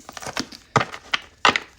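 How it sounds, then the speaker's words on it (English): Oracle reading cards handled while the deck is cut: a few sharp, dry taps and slaps of card stock against each other, close up, spaced irregularly over a couple of seconds, with no voices. "So I'm just going to cut the deck"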